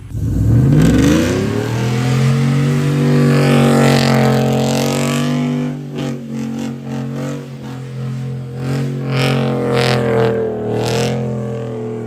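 A truck nicknamed Shorty revs hard, its engine climbing steeply in pitch and then holding a loud, steady drone close to the microphone, with some rougher fluctuations later on.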